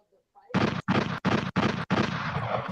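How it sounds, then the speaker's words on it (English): A burst of four or five loud, close gunshots in quick succession, each sharp blast separated by brief gaps, with a faint voice just before them. "Gunshots, gunshots."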